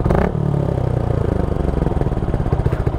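Motorcycle fitted with an Akrapovic exhaust, silencer and dB killer in place, idling with a steady low rumbling pulse after a brief louder opening burst, close and continuous with no talk.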